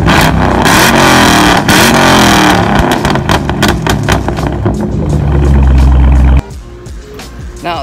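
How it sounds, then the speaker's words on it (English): Chevrolet Camaro ZL1 exhaust revving loud and close, with hard repeated blips and a sustained high-rpm roar that cuts off sharply near the end, leaving a lower idle. "Fourth, that exhaust, bro. Holy shit. Sounds amazing, sounds great,"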